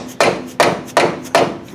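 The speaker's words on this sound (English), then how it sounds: "pound it on the rest of the way with a soft hammer." Four evenly spaced, sharp soft-hammer blows ring out up close as a tapered arm is pounded onto the steering knuckle of a Trailblazer or Envoy front strut assembly, each strike followed by a brief decay.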